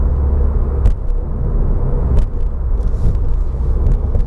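Turbocharged car engine pulling hard under acceleration, a loud continuous low rumble close by with brief whooshing bursts on top, no voices.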